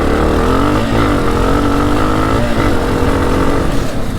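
A dirt bike engine roars loud and close throughout, with a steady, dense drone and slight shifts in pitch as it rides; no speech.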